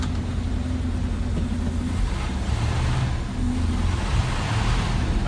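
A 1984 Chevy truck engine idles steadily just after start-up, a continuous low rumble with a constant tone, close and fairly loud, running without a break and no talking over it.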